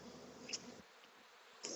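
Honey bees fanning at a swarm box hum in a close, dense buzz that drops away midway, with brief higher whines of bees flying past.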